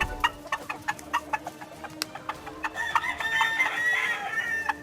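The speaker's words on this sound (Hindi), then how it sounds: "पशुपालकों में कड़कनाथ मुर्गा भी अपनी अलग पहचान बना रहा है।" A black Kadaknath rooster in rural Bastar gives a run of sharp, close clucks, then breaks into a longer crow over the final seconds, alone without talk.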